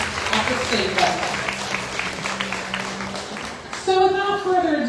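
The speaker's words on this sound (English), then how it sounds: "So let's give her a big round of applause for representing Jackson County at the state level." Audience applause at a county fair opening ceremony, a dense spread of clapping from a crowd that runs through the whole stretch, with a loud announcer's voice over a PA rising near the end.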